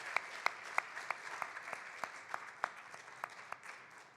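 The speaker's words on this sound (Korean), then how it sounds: "힘차게 박수로 환영해 주시면 좋겠습니다" A church congregation claps in welcome during a Sunday worship service, a steady patter of many hands with sharper individual claps standing out, fairly faint and distant-sounding.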